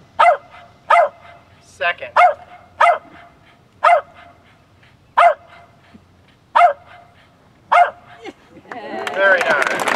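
A trained dog at a live golf show barks out numbers on command, delivering a series of sharp, loud barks in short groups close to the microphone, with a voice speaking briefly near the end.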